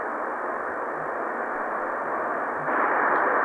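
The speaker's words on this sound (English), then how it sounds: "you can hear the traffic from Plumstead Road in the background" Road traffic from Plumstead Road carries in the background beside the Royal Arsenal buildings as a steady broadband roar that swells slightly near the end, with no talk.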